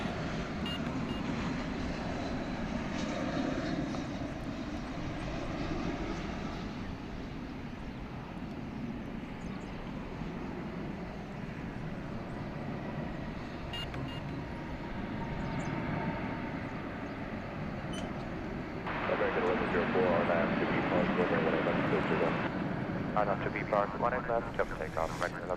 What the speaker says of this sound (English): Coming in there was American Flight's 777. It's not a 777, it's an Airbus A321, of course, but coming from Las Vegas.